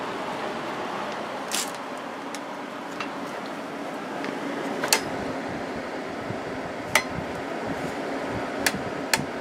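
A Whirlpool window air conditioner runs on fan only with the compressor off, giving a steady broadband whoosh of airflow throughout, with a few faint clicks and taps over it.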